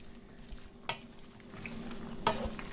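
Mange tout stirred into a simmering organic vegetable curry in a pan, quiet low bubbling with two brief sharp scrapes of a spoon against the pan.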